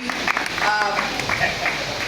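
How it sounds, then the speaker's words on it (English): Audience applause at a Red Bull Dance Your Style workshop gives steady clapping for about two seconds, moderately loud and filling the room. "A round of applause."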